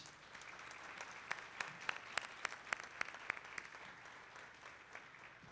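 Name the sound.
round of applause at commencement for former employees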